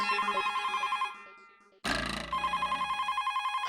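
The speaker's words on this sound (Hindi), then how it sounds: "ओ रामजी काका का फोन आया वापस" A telephone rings with a rapid, repeating electronic trill in two bursts, separated by a short break with a sharp jolt, heard up close.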